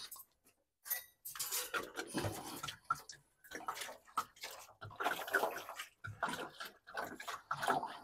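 Water pours into a container in short, intermittent bursts and splashes, fairly close and quiet, with light clinks between pours.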